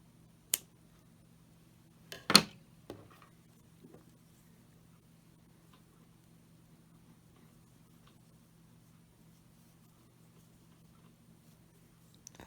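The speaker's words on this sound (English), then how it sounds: "I'm going to cut the white yarn." Scissors snip through white yarn during a crochet project, making a couple of sharp, close clicks followed by near silence and a low steady hum.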